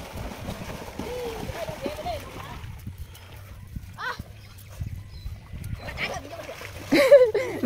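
Splashing in a village river as someone jumps into the water: scattered watery bursts amid children's voices and talk, with a louder splash near the end.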